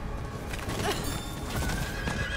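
A horse whinnies in Diablo IV while hooves clip-clop beneath it, heard alongside the game's ambient sounds and effects, with no talk.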